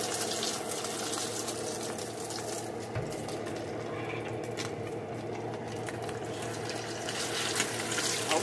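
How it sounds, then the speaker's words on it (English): A salmon patty drops into hot grease in a skillet and fries with a steady, hissing sizzle that stays even and fairly loud for the whole stretch, with no one talking. "So my grease is hot. I'm going to place patty"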